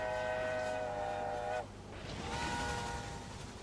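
Trains running on a line in the Railway Empire video game on PS4, a loud sustained whistle-like tone with steady rumble that cuts off briefly, then resumes more faintly over continuous rail noise.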